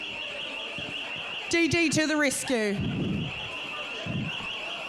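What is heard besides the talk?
alarm going off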